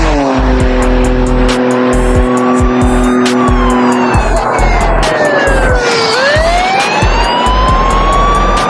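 A Toyota Supra with a twin-turbo V12 swapped from a Toyota Century, nitrous and rear-wheel drive accelerates hard on a motorway. The loud engine climbs through the gears while the tires squeal and the revs rise and fall sharply.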